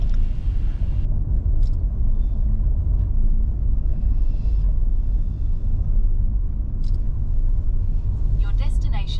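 A car drives down Main Street, its low, steady road rumble and tire noise continuous from inside the cabin, with a few faint tones and a voice heard over it.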